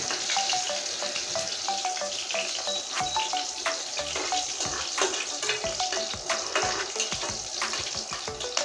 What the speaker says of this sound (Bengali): এবার রসুনটা ভালো করে ভেজে নেব।